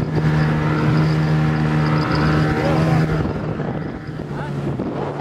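A motorboat travels across open water on a fishing trip, its engine a steady loud drone mixed with wind buffeting the microphone, fading slightly toward the end.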